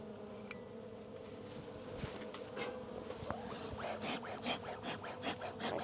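Honey bees buzz steadily around a hive entrance with a reduced opening, a dense, constant hum with individual bees flying close past and growing louder toward the end.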